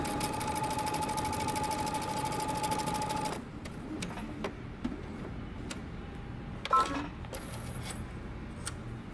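A sewing machine runs a fast, steady back stitch along a jumpsuit seam for about three seconds, then stops. Quieter clicks and handling noises follow, with no talking.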